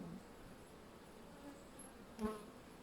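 Honey bees buzzing around a hive with capped honey, a faint steady hum with one brief louder swell near the end.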